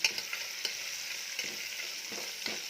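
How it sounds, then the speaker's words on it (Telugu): Chopped small onions and turmeric powder fry in oil in a pan with a soft, steady sizzle, broken by a few light clicks from stirring. "టూ చిన్న సైజు ఆనియన్స్ తీసుకున్నాను ఇవి బాగా ఫ్రై అవ్వాలి తర్వాత టర్మరిక్ పౌడర్ యాడ్ చేశాను ఇది బాగా ఫ్రై చేసుకోవాలి"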